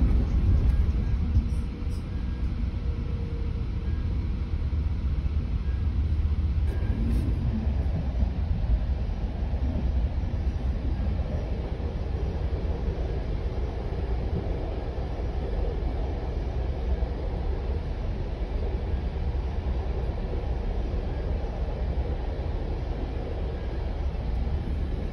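Passenger train riding between stations, a steady, loud low rumble and rolling drone that holds evenly throughout with no talk over it.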